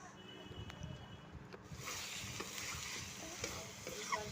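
Mutton being sautéed in a pan, a quiet continuous sizzle that swells after a brief pause, with intermittent scraping and stirring sounds and faint talk in the background.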